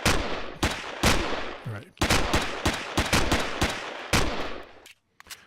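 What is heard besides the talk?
gunfire from the video game Empyrion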